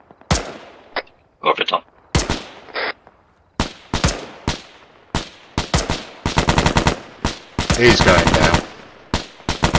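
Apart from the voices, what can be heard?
gunfire from a video game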